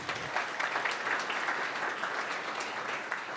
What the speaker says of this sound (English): You can give them a applause, yes.